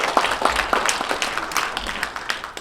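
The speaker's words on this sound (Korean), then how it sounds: "이때 박수를 쳐야 됩니다." Audience clapping at a Korean commemorative ceremony, a book launch and 103rd anniversary of the Korean Declaration of Independence, with a steady, fairly close patter of claps running throughout.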